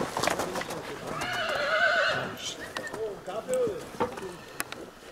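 A horse whinnies loudly in a long wavering call, followed by shorter snorts and nickers, with a few voices and faint hoof sounds around it, at Ciceu-Mihăiești, Bistrița-Năsăud, Romania.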